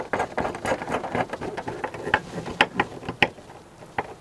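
Ratchet tightening bolts on a PERLEGEAR full-motion TV wall mount bracket, a quick run of close, sharp clicks in irregular bursts with no talking.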